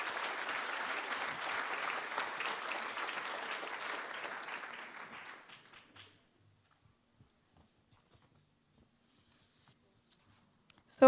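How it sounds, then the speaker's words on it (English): Applause for the finalists at an awards ceremony: a crowd claps steadily for about five seconds, then fades into near silence with a few faint ticks. "Let's give a big round of applause for your finalists."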